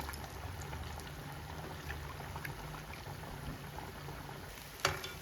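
Garelu, lentil vadas, fry in oil in a kadai with a continuous soft bubbling hiss, steady and fairly quiet, ending with one sharper clink near the close.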